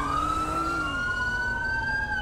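An ambulance siren in GTA 5 wails loud and close, a single sustained tone gliding slowly upward over engine rumble.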